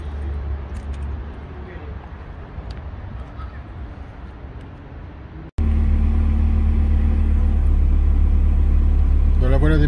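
A Ferrari 360 Modena engine runs just after starting, beginning as a moderate idle beneath a voice, then jumping abruptly to a louder, heavier, steady rumble close by.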